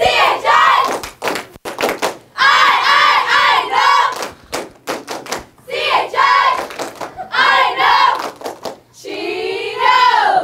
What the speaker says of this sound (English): I think we ought to get a little cheer from the cheerleaders